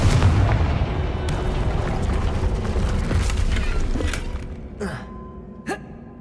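In Hogwarts Legacy, the Confringo fire spell fires and explodes with loud, rumbling booms and crackling bursts, then the noise fades and a couple of sharp, brief impacts or gasps follow in quieter surroundings.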